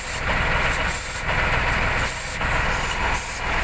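A loud, broad hiss of air being released pulses on and off repeatedly over the engine rumble of a T-150 tracked tractor, close by.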